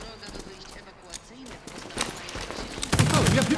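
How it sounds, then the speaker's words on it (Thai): Bursts of gunfire in the video game World War 3 crackle at close range, growing heavier toward the end, with a voice talking over the shots. "เสียงปืนยังมีอยู่เหรอเมื่อกี้"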